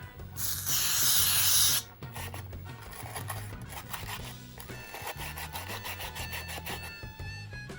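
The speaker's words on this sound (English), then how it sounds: "Next thing I'm going to try is to clean the cartridge pins with a contact cleaner." Contact cleaner hisses in a loud spray burst of about a second onto NES cartridge pins, followed by rubbing and scraping handling noises.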